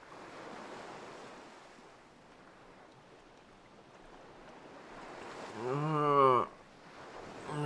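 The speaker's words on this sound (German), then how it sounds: "Und so wurde Mario vom Wasser erfasst." Water waves in the Super Mario Odyssey video game: a steady, rushing surf-like wash builds gradually, then a brief swelling whoosh with a rising musical tone sweeps through before dropping away.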